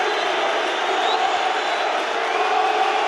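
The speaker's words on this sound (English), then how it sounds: "But this crowd, this atmosphere is brilliant now. I have never heard anything like this" A rugby stadium crowd at an Ulster v Connacht match keeps up a continuous, loud roar of cheering and shouting, dense and unbroken across the whole stretch.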